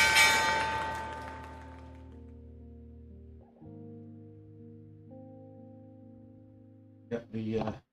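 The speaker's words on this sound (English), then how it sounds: "There's the bell." Stock market opening bell ringing: a bright struck bell tone that decays over a few seconds, followed by sustained lower ringing tones and a brief burst of sound at the end.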